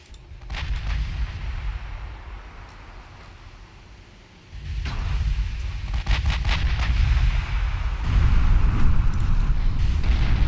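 Heavy battleship guns boom repeatedly in Ultimate Admiral Dreadnoughts, dense overlapping naval salvos that swell louder midway and keep rumbling with sharp cracks layered on top.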